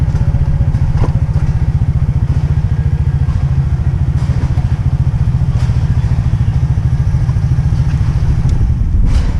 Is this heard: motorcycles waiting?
yes